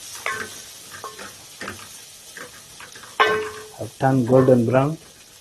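Tomatoes going into a pan of golden-brown frying onions, a loud burst of sizzle at the end following quieter clinks and stirring sounds, close by.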